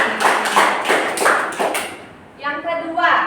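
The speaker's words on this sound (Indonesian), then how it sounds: "Berikan tepuk tangan." A classroom gives a short round of applause, several quick rhythmic claps close by, followed by a teacher's voice speaking.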